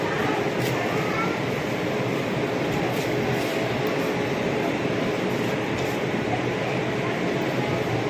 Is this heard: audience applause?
no